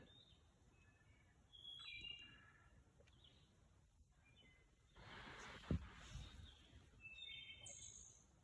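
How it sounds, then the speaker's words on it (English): Several birds chirp and sing outdoors at a moderate distance, their calls scattered over a quiet, faint background with a brief low thump midway. "Just gonna listen to these birds."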